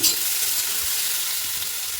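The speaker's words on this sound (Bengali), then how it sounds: "তো এখানে আলু ভাজাটা বসিয়ে দিলাম।" Potato pieces fry in oil in a pan in a home kitchen, giving a steady bright sizzle with a soft stir or scrape near the end, close and continuous with no voices.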